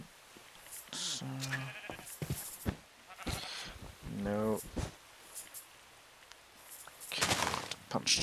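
Sheep in a video game bleat twice in quick succession, fairly close, with a person speaking around the cries and a burst of hiss near the end.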